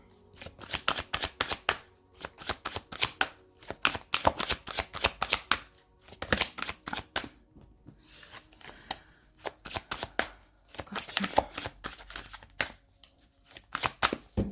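Tarot cards are shuffled and cut in quick riffling bursts of crisp flicks, with short pauses between rounds, close and fairly quiet with no talk.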